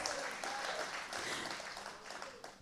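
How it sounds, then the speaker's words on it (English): A crowd at an International Women's Day celebration applauding steadily, dense clapping filling the room throughout without pause. "Give yourselves a round of applause."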